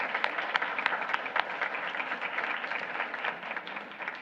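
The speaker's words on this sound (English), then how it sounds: "We can give them a round of applause as well" Audience applause at a school board meeting, a steady wash of clapping with a few sharper individual claps, moderately near and continuing throughout without talk.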